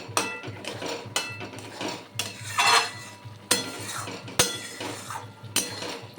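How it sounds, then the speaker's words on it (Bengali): Ridge gourd bharta is stirred and sautéed in a pan, with repeated metal spatula scrapes and clinks against the pan over a gentle sizzle, close and rhythmic with no speech. "এইবার কষিয়ে নেব, বারবার নেড়ে চেড়ে।"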